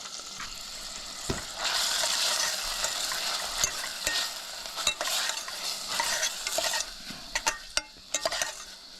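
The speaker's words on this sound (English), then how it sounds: "I'm just gonna turn off the stove and let this tuna warm through basically" Tuna warming through in a pan on a switched-off stove, a soft steady sizzle with occasional light stirring scrapes and taps, fairly close and quiet.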